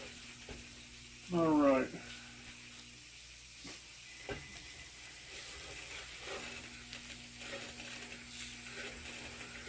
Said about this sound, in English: you kind of give it a little cook in there for about a minute. Give that flour a little bit of flavor.